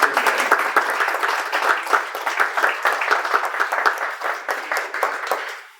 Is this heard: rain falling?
no